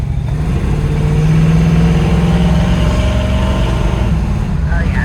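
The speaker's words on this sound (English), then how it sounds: "we're gonna go up around the corner one more time, let it go through the gears" A 1967 Chevrolet Nova engine pulls loud and close, a dense, steady drone rising and holding as the car drives up through the gears, with no voices over it.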